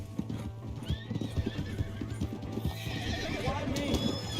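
A horse in Red Dead Redemption 2 gallops with rapid, close hoof clip-clops while neighing and whinnying loudly, with someone shouting over it.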